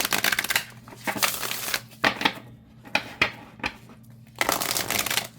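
An oracle card deck is shuffled by hand in several crisp riffling bursts separated by short pauses, close and fairly loud.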